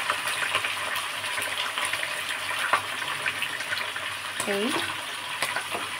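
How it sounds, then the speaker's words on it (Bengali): Hot oil crackles and spatters steadily while food fries in a pan at a home stove, a dense sizzling hiss with scattered pops, and a brief spoken word near the start. "তেলটা একটু গরম হয়ে গেছে তো ওই জন্য একটু ফাটছে"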